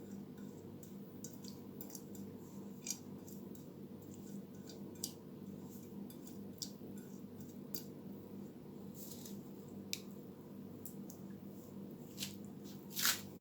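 Raw chicken is doused with seasoning in quiet, wet squishing and soft drips, with faint scattered ticks and taps over a low background hum and a slightly louder splat at the end.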